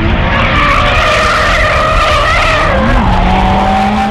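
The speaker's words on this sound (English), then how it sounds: "Drifting is an art form of driving where the car is held in a drift by excessively" A drifting car holds a long slide with squealing, skidding tyres over a roaring engine, loud and close throughout, with the tyre screech shifting pitch near the end.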